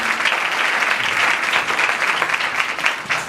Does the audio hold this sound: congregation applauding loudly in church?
yes